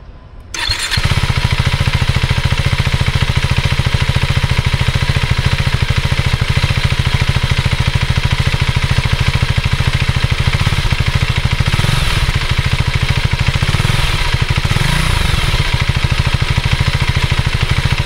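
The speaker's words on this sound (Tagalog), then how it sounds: "Gagawin natin ngayon is isa sound check natin siya. Take note, naka stock pipe pa lang to." A 2025 KTM 390 Adventure R motorcycle on its stock exhaust fires up after a brief crank, then settles into a steady, loud, close idle that runs on with a few slight blips.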